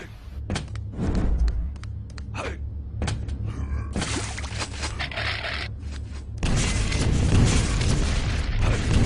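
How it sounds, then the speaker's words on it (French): In a fast arena shooter match, a rocket explodes and throws an opponent into the air. The blast lands as a booming impact among clattering game effects, and a louder, denser burst of noise follows near the end. "Une belle roquette qui fait voler son adversaire et là Yoji attaque au shaft."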